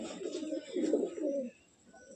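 Domestic pigeons in a loft coo in low, throaty, rolling phrases, close and steady for over a second before fading into quieter murmurs, with no talking.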